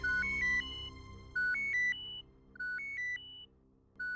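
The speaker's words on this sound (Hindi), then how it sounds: "कमिश्नर साहब का फोन है।" A telephone rings in a repeating electronic ringtone, three clear bursts of stepped beeping tones spaced evenly over a quiet background with no talk.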